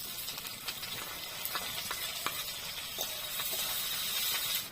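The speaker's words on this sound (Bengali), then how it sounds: "এরপর দিচ্ছি পেঁয়াজ কুচি।" Chopped onion fries in mustard oil with whole cumin and dried chilli, a steady close sizzle with sharp crackles and pops scattered throughout.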